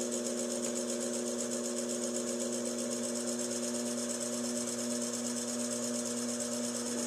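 A potter's wheel spins steadily while a clay jug is trimmed, giving an even, constant motor hum with a faint whirring buzz and no clear pauses.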